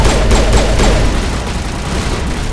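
Turrets in the Mass Effect video game fire in loud, dense bursts of rapid shots amid booming impacts, a continuous close barrage that eases slightly toward the end.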